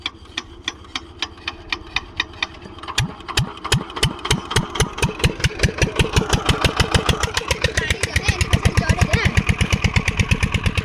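A farm water pump engine in a village field is cranked a few times, then catches and settles into a loud, steady, rapid thumping run that grows slightly denser and stronger as it keeps going.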